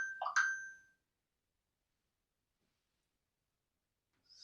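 A phone gives a short notification chime, a bright two-part electronic tone heard up close, then silence until a faint tone returns at the very end.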